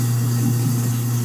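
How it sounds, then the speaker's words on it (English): A kitchen garbage disposal, just cleared of a jam, runs with water: a steady, loud electric motor hum with a constant low drone throughout. "Never run the disposal without water."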